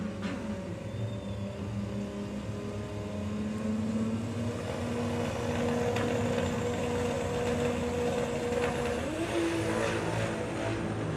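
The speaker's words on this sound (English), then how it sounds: "Lots of tyre squeal going on." Drag race car at Santa Pod, heard from the stands, its tyres squealing with a sustained high tone above a droning engine; the pitch holds steady, then jumps upward near the end, with no speech.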